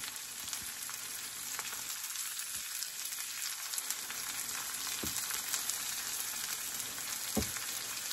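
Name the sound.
cayenne pepper and corn frying in a pan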